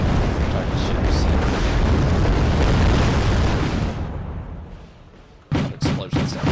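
Heavy rumbling explosions from the war strategy game Wargame: Red Dragon fill the opening seconds, then die away before a quick series of sharp, loud booms closes the clip.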